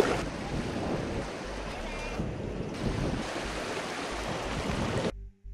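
Roaring sea waves pound the Karnataka coast during heavy rain, a loud, continuous wash of surf with wind buffeting the microphone, steady throughout before cutting off abruptly near the end.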